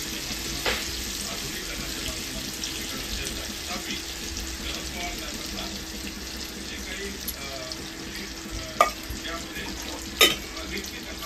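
Surmai fish marinated in Malvani masala, chilli, kokum and salt frying in oil, a soft continuous sizzle at moderate distance with occasional sharp pops and clicks, alongside a faint watery hiss.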